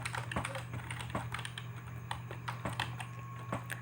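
Keystrokes on a computer keyboard while entering code values in a statistics spreadsheet, a quick irregular run of light taps over a steady low hum, fairly quiet and with no talking.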